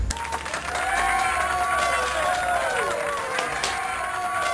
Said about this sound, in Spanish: Un fuerte aplauso para J-Pibi